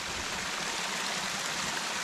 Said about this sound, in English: And there is definitely a waterfall in the woods there.